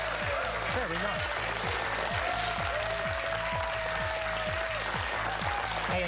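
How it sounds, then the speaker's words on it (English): A crowd claps continuously and evenly for Brain Game championship finishers, Raleigh Charter High School and Lee Early College, a sustained dense applause with rhythmic low thumps and voices underneath. "can we give a round of applause for our second place finishers, Lee Early College?"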